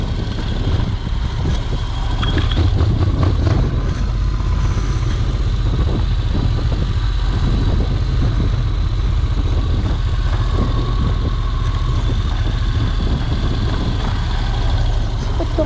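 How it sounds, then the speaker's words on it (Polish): A motorcycle engine idles with a steady low rumble mixed into loud street background noise, continuous and fairly close, with no speech. "A tam jest motorek!"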